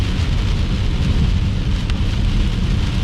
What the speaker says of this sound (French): En alerte d'orage violent. ouais, un orage violent, là.